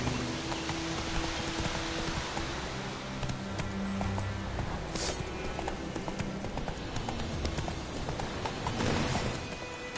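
Roach the horse galloping in The Witcher 3, hooves pounding in a fast, steady rhythm over a soft patter like rain, loud and continuous with no talking.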